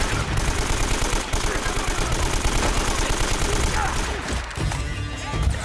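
Rapid bursts of gunfire in Uncharted: Drake's Fortune, dense, continuous automatic fire with sharp cracks and a heavy low thump running throughout, loud and close, with a brief dip near the end before shots resume.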